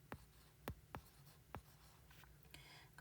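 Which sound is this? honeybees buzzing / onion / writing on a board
writing on a board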